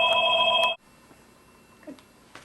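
A telephone rings loudly and close in a single electronic burst that cuts off abruptly, leaving a quiet room with faint background noise.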